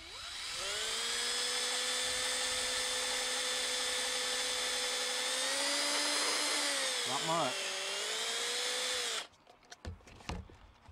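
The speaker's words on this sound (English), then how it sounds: "I'm gonna drill a hole in them." A power drill bores a hole through a plastic jar for a wax moth trap, a steady high whine that dips in pitch as the bit bites, then stops abruptly, followed by faint handling clatter.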